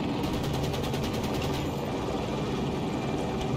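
A helicopter rumbles loudly through Battlefield 2042 combat, its rotor chop blending with rapid machine-gun fire and dense battlefield noise.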